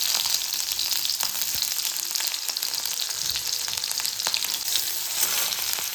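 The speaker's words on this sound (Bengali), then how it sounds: "দিয়ে দিচ্ছি 4 টুকরো রসুন, 2টো কাঁচা লঙ্কা নিয়েছি, মুখ ফাটিয়ে দিয়ে দিচ্ছি।" Garlic cloves and slit green chillies frying in hot mustard oil, a continuous dense crackling sizzle with occasional spits and pops, near and steady, no voices.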